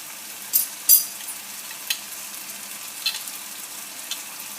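Onion and tomato fry in a pan over medium heat for a Tunisian mtabga, making a soft, low sizzle broken by a few small pops.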